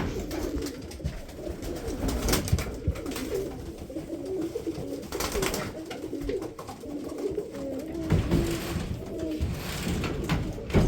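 Pigeons coo repeatedly nearby, soft throaty calls overlapping in a continuous murmur with some flapping and rustling.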